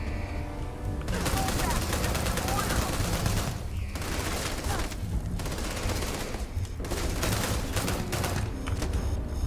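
Sustained automatic gunfire from a weapon in Starfield, with loud rapid bursts that pause briefly and resume, over a dense game soundscape; a voice talks faintly underneath.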